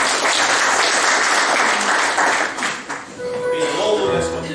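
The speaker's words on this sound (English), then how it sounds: "Give yourselves a round of applause," A church congregation at a family service breaks into loud, sustained applause that fills the room, with voices mixed in before it thins briefly and swells again.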